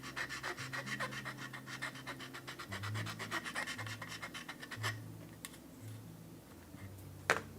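A hand file scrapes a craft piece in rapid, rhythmic rasping strokes, close and fairly quiet, slowing and thinning toward the end before a single sharp knock.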